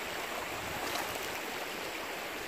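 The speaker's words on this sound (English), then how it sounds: "Really nice creek here," Water in a creek in northern Maryland flows in a continuous, even rush, close by and moderately loud, with no voices over it.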